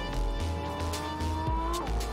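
In-game car in Fortnite revving and driving with a sustained engine tone that shifts pitch, tires squealing and skidding briefly, loud and continuous throughout.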